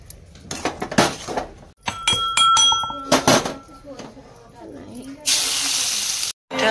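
Oil heating in a pan while an Odia besan aloo tarakari is being made, giving a steady broadband hiss that builds toward the end, with scattered clinks of utensils and dishes earlier on.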